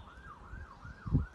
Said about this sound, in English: See, look, even sirens are going off because I've got dressed.